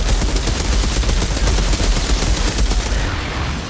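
Sustained automatic gunfire from the shooter game Outriders pours out in a dense, loud, continuous barrage of overlapping shots with no pauses, fading slightly at the end.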